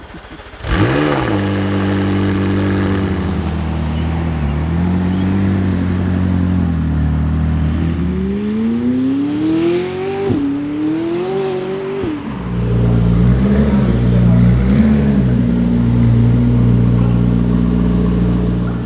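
A McLaren P1 sports car starts and pulls away, its engine note rising and falling through several revving climbs and gear changes, loud and close at first, then swelling again into a strong steady drone.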